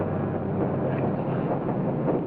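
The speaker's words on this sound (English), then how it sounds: "Engine's acting up already." Aircraft engine acting up in an old horror film: a dense, muffled rumbling drone, steady and fairly loud, with a slightly rough, uneven texture and no clear speech.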